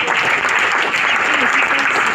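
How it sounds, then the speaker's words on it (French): Dense, loud applause from an audience at a book launch ceremony, continuous clapping throughout with a voice faintly audible underneath. "est-ce qu'on peut encore applaudir?"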